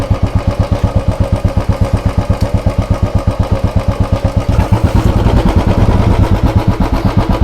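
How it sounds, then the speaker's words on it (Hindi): A Royal Enfield Bullet 350 Standard BS6 motorcycle idles nearby with a loud, steady single-cylinder thump that rises slightly in revs and loudness partway through. "ये रहने वाला है इसका स्टैंडर्ड का साउंड BS6 में।"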